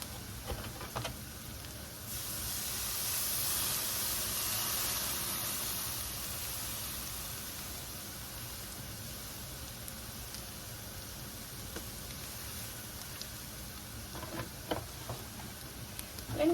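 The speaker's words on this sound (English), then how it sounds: "And now we're going to add our milk." Milk poured into a hot frying pan with meat drippings, for gravy, hisses and sizzles in a steady, rain-like wash that holds for many seconds, with a few small pops near the end.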